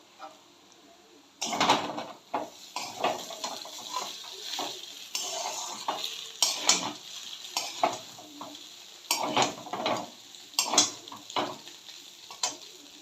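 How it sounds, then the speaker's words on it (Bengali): Maggi noodles with spice packets are stirred in a pan, making repeated scraping strokes and soft sizzling, loud close clatters between quieter gaps, with no voices. "তিনটে ম্যাগি করেছিলাম, সেই 3টে মশলা প্যাকেটে আমি দিয়ে দিচ্ছি। আরও একবার মিক্স করে নেব ভালো করে।"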